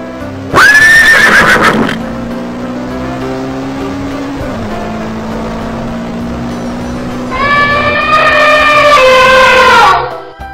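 A horse gives two loud, close whinnies, a sharp high neigh at the start and a longer shaking neigh near the end, with a steady low hum between them.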